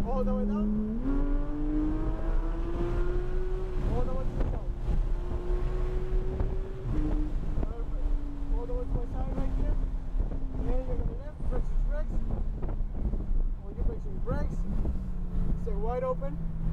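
Porsche 911 GT3 being driven, its engine note climbing and easing in long sweeps, heard close over heavy wind buffeting with scattered voices in the cabin.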